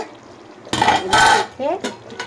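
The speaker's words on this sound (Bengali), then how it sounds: "পাঁচ মিনিট পর ঢাকাটা খুলবো" A metal lid is lifted off a pot of country chicken curry (deshi murgir kosha), a close burst of clattering and scraping metal followed by a few more clinks and brief sizzling.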